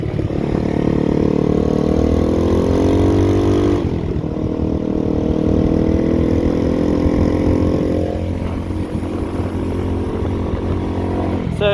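A 150cc X-Pro Bali motorcycle with upgrades runs loud and close, its engine drone steady and rising in pitch as it revs, with a brief dip near the middle before pulling again.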